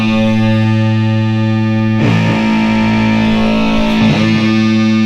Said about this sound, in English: So do you hear the delay on there?